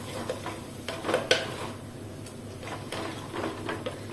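A spoon scrapes and clinks against a pot while rasam is stirred after rasam powder is added, soft repeated stirring scrapes over a steady background hum.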